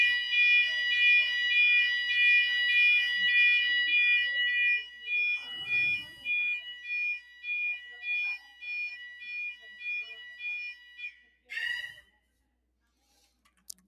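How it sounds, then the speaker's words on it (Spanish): An alarm that cannot be switched off sounds a shrill, steady electronic tone in a repeating on-off pattern for about eleven seconds. Brief faint noises sit under it before it stops with a short burst. "estamos con un problema con la alarma que tenemos aquí, que todavía no solucionamos poder apagarla"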